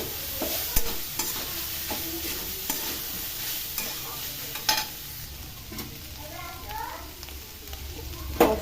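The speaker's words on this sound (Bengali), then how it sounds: "কাজু কিশমিশ সব এগুলো দিয়ে দিয়েছি, ছেড়ে নিচ্ছি। পনিরটাকে দিয়েছি, মিশিয়ে নিই।" Paneer with cashews and raisins stirred in a frying pan, a steady sizzle broken by repeated spatula scrapes and clicks against the pan, heard close up with brief quiet speech in the background.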